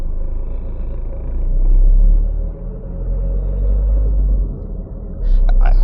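A non-turbo Citroen BX 19DTR diesel engine runs under load on a dyno in second gear, a deep, heavy rumble that swells, eases off and builds again.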